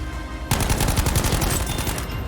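Rapid automatic gunfire in the World War II shooter Battlefield V, a loud, continuous burst of closely spaced shots starting abruptly and running to the end, with no talking.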